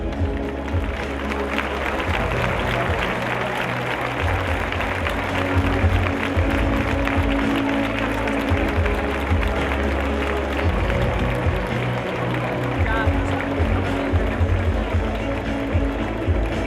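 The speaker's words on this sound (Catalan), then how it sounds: "Acomiadem de l'escenari amb un fort aplaudiment als membres del jurat." An audience at the Torrent Falleres Majors 2017 election gives the jury sustained, loud applause, with a dense steady roar of clapping throughout and some crowd noise.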